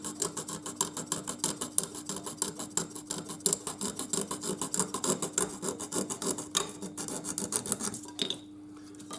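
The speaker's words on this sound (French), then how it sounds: "tout ça, le gros, je vais le retirer à la lime" A hand file rasps steadily against a plastic part from a 1941 Ford Woody 1/25 scale AMT model kit, close up, with fast repeated strokes that pause briefly near the end.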